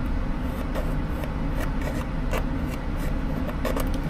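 A rough hole being cut in wood inside a camper van for a switch, with a continuous close, loud rasping and scraping that carries a steady rhythm throughout.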